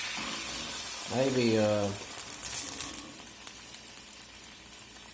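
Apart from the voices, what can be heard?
white wine poured into a hot pan, sizzling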